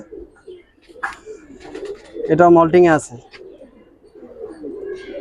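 A Brahma pigeon in a loft gives a loud, drawn-out coo in the middle, with quieter pigeon sounds around it, while someone talks nearby.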